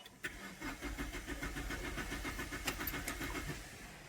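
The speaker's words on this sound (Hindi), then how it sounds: "अब क्रैंकिंग करते हैं गाड़ी को।" Mahindra Marazzo engine cranking during a not-starting fault check, a rapid rhythmic starter churn running for about three seconds after a click, close and moderately loud.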